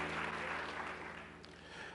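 A church congregation applauds during a sermon, a soft, diffuse patter of clapping beneath a steady low hum, moderately distant and fading slightly midway before picking up again.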